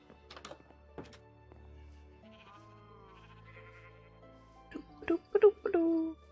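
Sheep bleat in Minecraft survival mode: several short, close, wavering bleats cluster near the end, after soft clicks and key taps over a quiet, low background.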